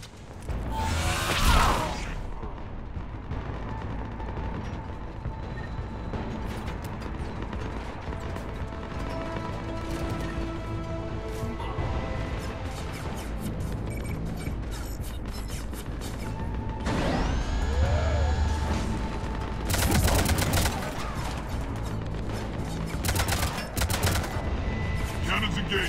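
Heavy cannon fire booms and cracks in bursts in Mass Effect, mixed with whooshes, clanking mechanisms and crashes over a dense, continuous game soundscape with background music.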